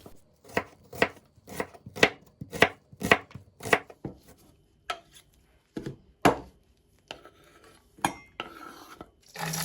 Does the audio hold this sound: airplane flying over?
no